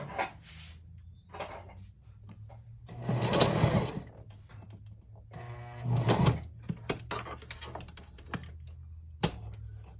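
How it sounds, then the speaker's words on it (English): A sewing machine runs a short test stitch on a DIY baby burp cloth, whirring in two brief bursts between clicks and handling taps, close and fairly quiet. "Let me do a test stitch really quick."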